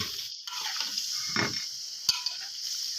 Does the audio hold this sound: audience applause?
no